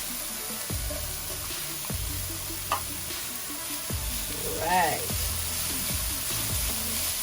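Thinly sliced carrots are stir-fried in a hot pan for diet fried rice, giving a continuous sizzle broken by regular scraping strokes of a spatula, with a brief voice heard faintly in the background.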